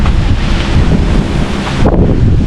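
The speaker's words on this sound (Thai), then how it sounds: "โอ้ลมมาแล้ว ดูดิ" Loud, continuous gusting wind from a summer storm batters the microphone at a mountain tent campsite in Khao Kho, with a brief dip before it surges again.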